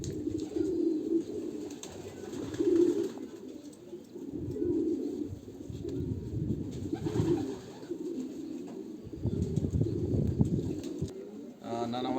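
Racing pigeons coo at a loft, repeated low throaty calls overlapping in a steady chorus, fairly close, with brief pauses and a faint burst of other sound near the end.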